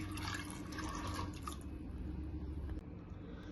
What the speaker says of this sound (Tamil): தண்ணி வந்து பருப்பு மூழ்கிற அளவுக்கு தண்ணி விடணும்